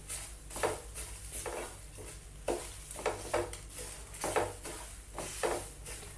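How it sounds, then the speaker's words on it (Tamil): Grated coconut dry-roasts in a pan without oil, heard as a series of rhythmic stirring scrapes and soft clinks against the pan, fairly quiet and close, with no talking. "அதையும் சேர்த்து நல்லா வறுத்துக்கோங்க."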